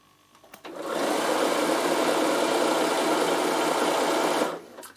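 A Bernina sewing machine runs in one steady, loud burst for about four seconds, stitching a quarter-inch seam onto cotton wadding for a quilt-as-you-go heat pad, with a quick start and stop and no talk.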